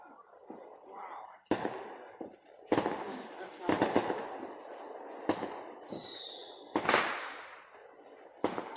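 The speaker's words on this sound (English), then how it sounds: "This is the most fireworks I ever heard in our neighborhood." Neighborhood fireworks and firecrackers on the 4th of July go off in about six sharp, loud bangs at irregular intervals, with crackling and fizzing between them and people talking and whispering nearby.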